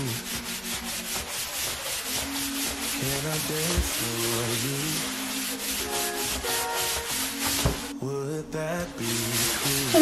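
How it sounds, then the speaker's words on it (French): A sponge with baking soda scrubs wall tiles in quick, rhythmic rubbing strokes that continue throughout, close and clear, with background music playing along. "Puis je prends une éponge comme ça. Je mets le bicarbonate de soude dessus. Et je vais frotter mes carreaux."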